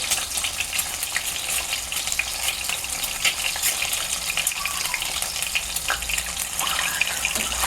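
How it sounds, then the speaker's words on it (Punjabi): Boiled eggs frying in a pan for egg fry masala, giving a continuous dense crackling sizzle, close and even throughout, with no talking. "ਇੱਕ ਸਾਈਡ ਪਹਿਲਾਂ ਫਰਾਈ ਹੋਣ ਦਵਾਂਗੇ ਉਬਲੇ ਹੋਏ ਅੰਡੇ ਲਏ ਆਪਾਂ"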